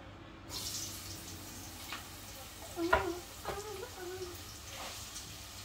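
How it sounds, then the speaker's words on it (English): Chopped onion sizzles as it drops into hot oil in a pot for callaloo with saltfish, a soft steady frying hiss with a few brief clinks and stirring sounds, faint voice underneath. "So I'm gonna add the onion in the oil."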